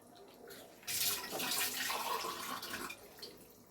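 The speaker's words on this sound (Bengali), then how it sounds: "এটাকে একটু জল দিয়ে হতে দেব।" Water pours into a cooking pan of shallow-fried fish, a steady splashing gush that starts abruptly and runs for a few seconds before tapering, fairly close and unaccompanied by talk.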